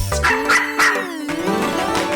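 A puppy barks in three quick, close yips over a bright children's song with music.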